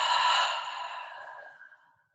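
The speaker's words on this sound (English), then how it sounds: "breathing in through the nose and out through the mouth" A single long, steady exhale out through the mouth during a guided meditation, close and soft, airy and breathy, fading gradually to silence after about two seconds, alone with no talking.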